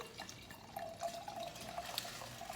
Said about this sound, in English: Let me tip it down. I'll pour it for you.